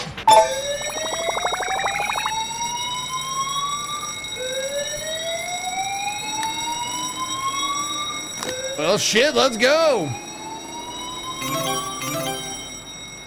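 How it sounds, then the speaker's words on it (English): Alarm in the video game The Coin Game, rising electronic tones and ringing over game sounds, with a burst of warbling tones near the end and someone talking over it. "I'm not a huge fan of that fucking alarm going off, but whatever."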